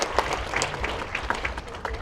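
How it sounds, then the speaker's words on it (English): An audience at a Las Vegas magic show at the Westgate bursts into applause, lively clapping and cheering with voices mixed in. "Alexia deserves a round of applause for that."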